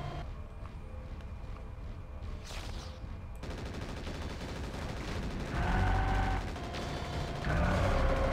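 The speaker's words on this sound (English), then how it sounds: "Guess you'll just have to use heavy machine gun." Heavy machine gun firing in MechWarrior 4: Mercenaries, a dense rattling stream of rapid shots that cuts in after a short pause and grows louder, mixed with booming impacts and mech machinery noise.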